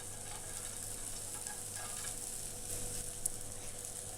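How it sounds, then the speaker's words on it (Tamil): Onions sizzle steadily on a hot pan prepared for rava dosa, a soft, even frying hiss that stays continuous and fairly quiet throughout. "இப்போ அது மேலே நம்ம கொஞ்சமாக ஆனியன் போட்டுக்கலாம்."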